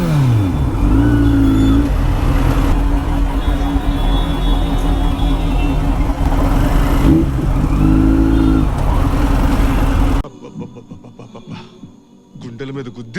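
A Kawasaki Z900 motorcycle engine revs hard in city traffic on Church Street and Koramangala, loud and close, with pitch climbing and dropping in repeated throttle blips before it cuts to a much quieter background.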